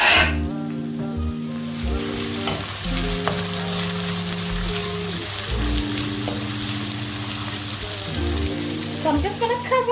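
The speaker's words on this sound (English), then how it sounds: "I've added the balance of the red onions, so I've mixed them together with the white onions, and they're just gonna go in the oil like so." Red and white onions fry in hot oil with a dense, crackling sizzle that holds steady throughout, backed by a low humming background tone and a brief stir near the end.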